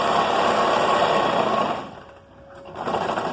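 A sewing machine stitches a long frock bodice with princess seams, running as a steady loud mechanical whir that slows and dips briefly near the end before starting up again.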